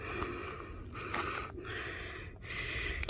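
Heavy, rhythmic breathing from a hiker climbing uphill on a desert trail to Arizona Hot Springs, with close, loud breaths repeating in several long cycles and no speech.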